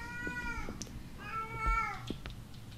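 A cat meows twice in the video game Erie, each call drawn out and wavering, with a few soft clicks around them and no talk.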